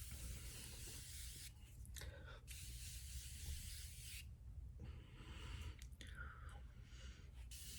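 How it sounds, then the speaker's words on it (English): Several hissing bursts of makeup setting spray separated by short pauses, close and fairly soft, with faint rustling in between. "Oh, actually, setting spray. I think I have a little bit of this left."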